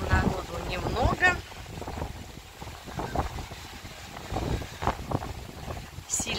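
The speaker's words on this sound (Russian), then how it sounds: "Сильный ветер, поэтому то, что я говорю, возможно, это все заглушает ветер." Gusty wind on a beach thumps and rumbles against the microphone while a person talks underneath, the buffeting rising and falling in uneven surges.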